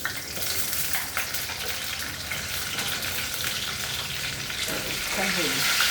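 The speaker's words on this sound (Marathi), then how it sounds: "तडतडायला लागलेला आहे. कांदा घालू आपण." Onion frying in hot oil with mustard seeds and cumin in a pan, a steady loud crackling sizzle throughout with a brief scraping stir near the end and no talk.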